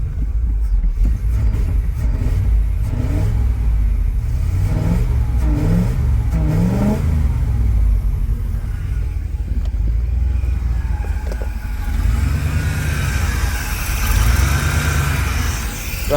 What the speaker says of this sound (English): Tried to rev it from the throttle